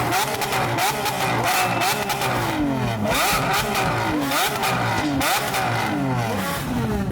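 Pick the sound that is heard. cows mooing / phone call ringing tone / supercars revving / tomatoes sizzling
supercars revving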